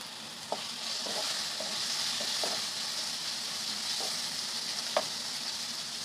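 Soft, steady sizzle of masala with turmeric being lightly fried for chicken gravy, with occasional faint stirring clicks from a utensil in the pan.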